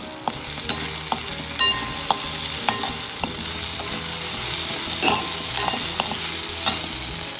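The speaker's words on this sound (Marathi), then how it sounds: "वास जाऊपर्यंत थोडं परतून घ्यायचं।" Ginger-garlic paste and kasuri methi sauté in a pan with a steady sizzle, and a spoon scrapes and stirs in irregular taps throughout, close and fairly loud, with no voices.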